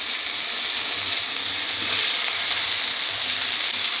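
Potato and eggplant pieces fry in a pan with greens, producing a loud, dense, continuous hiss of sizzling oil with faint stirring underneath, steady throughout and free of speech.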